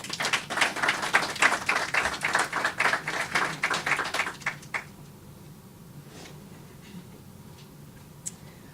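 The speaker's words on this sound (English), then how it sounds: "Please give her a round of applause." Audience applause at a university medical school memorandum signing ceremony, a burst of hand clapping for about four and a half seconds that quickly fades to a quiet room with a few faint taps.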